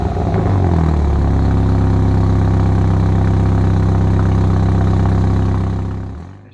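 A Mini Clubman JCW's engine starts and settles into a steady, loud, close idle with a deep, even rumble, then cuts off at the end with no voices over it.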